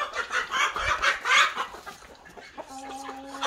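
A molting hen clucks and murmurs close by, softly and steadily, with several brief bursts before a quieter stretch and a faint tonal hum near the end.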